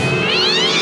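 A kitty in bad condition gives a single drawn-out, high, wavering meow that rises in pitch, loud and close, filling the whole moment without other voices.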